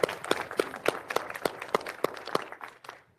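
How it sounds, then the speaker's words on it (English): Applause at a DCHI executive committee meeting for the City and County of Denver, sounding like a small group or a single nearby clapper, with sharp, evenly spaced claps in a steady rhythm that fade out at the end. "How about a huge round of applause for City and County of Denver?"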